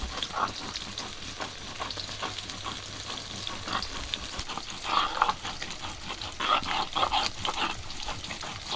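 Marinated rohu fish pieces fry in hot oil in a wok, cooked rural style, with a continuous crackling sizzle that swells in the second half and is broken by a few brief yelp-like sounds.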